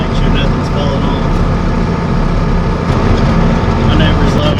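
Loud, close diesel rumble of a John Deere 4440 tractor driving, a continuous low engine drone holding steady throughout.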